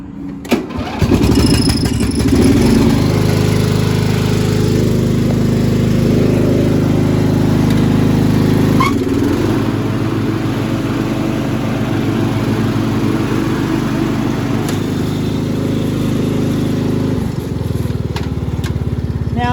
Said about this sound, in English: Now I'll get to see how much better it cuts with brand new blades.